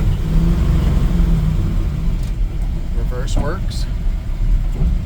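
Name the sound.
1956 Chevy 3100 pickup truck engine running while shifting gears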